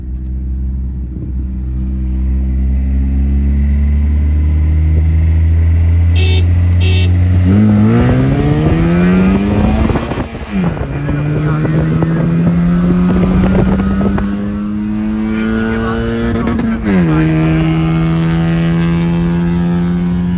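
Honda City and Volkswagen Virtus cars accelerating hard in a rolling race, their loud engines droning and rising in pitch through several gear changes, the roar sustained and close throughout.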